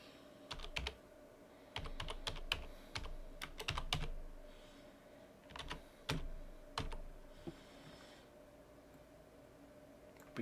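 Code is typed on a computer keyboard in quiet, close bursts of crisp key clicks with short pauses between runs.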